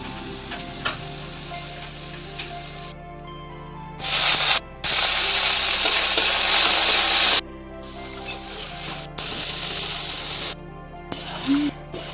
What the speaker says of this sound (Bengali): তারপর আস্তে আস্তে আমি গাজর আর ফুলকপিগুলো ভেজে নেব